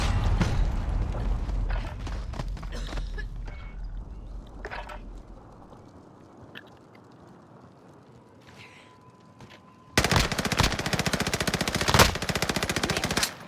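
Gunfire in the video game Call of Duty: Modern Warfare, with a dense rattle of rapid shots early, a quieter stretch of scattered mechanical clicks, then a loud sustained burst of automatic fire.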